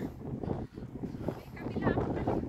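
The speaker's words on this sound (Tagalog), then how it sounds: "Ay, mahangin." Gusty wind buffets the microphone on a beach with a low, rumbling roar, steady throughout and close, while voices talk faintly underneath.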